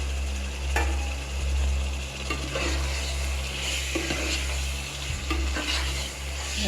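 Half a kilo of chicken frying in a pan for biryani, a steady close sizzle with repeated scraping and stirring knocks running throughout, no voices.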